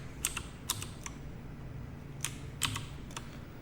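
Computer keyboard typing, a handful of sharp separate keystrokes in small clusters, close and fairly soft over a low steady room hum, with no one speaking.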